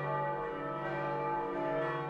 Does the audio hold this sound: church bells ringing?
yes